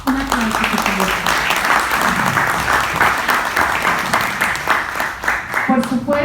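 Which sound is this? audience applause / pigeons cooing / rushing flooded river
audience applause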